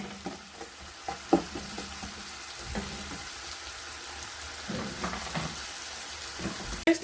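A large onion fries in a pan for fried rice, giving a soft continuous sizzle with irregular stirring scrapes and light knocks from a utensil, close and fairly quiet, with no talking.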